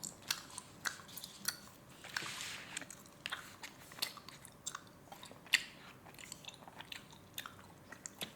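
Close, quiet chewing of jelly candy at home: a steady run of small, soft bites and squishy mastication clicks, alone without talk.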